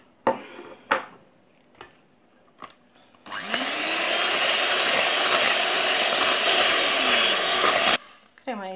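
A whirring electric mixer whips Swiss meringue buttercream with butter, starting after a few short clatters and taps, then running steadily and loudly for several seconds before cutting off abruptly.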